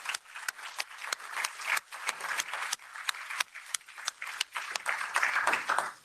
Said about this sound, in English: could we have a round of applause for Lucilla Sioli?